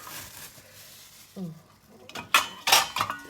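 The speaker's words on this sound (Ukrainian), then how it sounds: "кидаємо в баняк і баняк накриваємо кришкою" A metal lid clanks onto a pot of potatoes, with a few sharp clinks and rattles of cookware close by.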